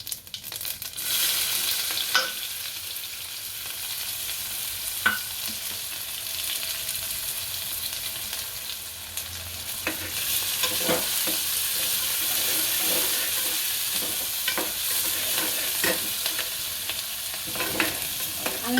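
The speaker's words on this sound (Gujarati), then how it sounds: "હવે કાંદા નાખશું" Onions sizzle and fry in hot oil inside a pressure cooker on a home kitchen stove, with steady frying hiss throughout and repeated scraping stirs of a spoon, close and fairly loud, no voices.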